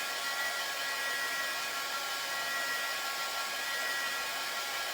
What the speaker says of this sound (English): So let's just hit this with the dryer.